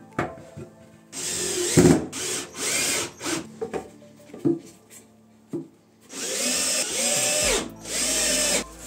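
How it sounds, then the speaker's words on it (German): Power drill driving screws to fasten wooden frame parts during a wood restoration in a workshop, several loud whirring bursts of a few seconds each, separated by short pauses and handling noise. "jetzt sind wir soweit, dass wir die Dinger wirklich nur noch anschrauben müssen"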